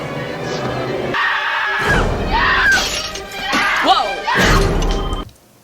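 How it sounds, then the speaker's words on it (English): A glass mirror shatters under a punch in a slasher film: repeated loud crashing and tinkling breakage across several seconds, mixed with voices, then stopping abruptly. "She's got a forceful punch if she just broke that glass just like that."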